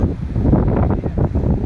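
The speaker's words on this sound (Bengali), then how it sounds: "প্রচুর বাতাস।" Strong wind sweeps across an open flooded wetland where people wait to watch fishing from a boat, producing a low, rumbling buffet against the microphone that swells and dips over a short stretch.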